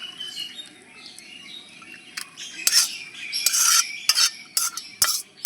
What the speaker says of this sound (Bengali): এবারে ছাকুনি দিয়ে এটা ছেঁকে নেব